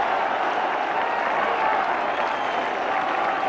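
A cricket crowd applauds and cheers India's win over England, a dense, sustained wash of clapping from a large stadium audience continuing steadily throughout.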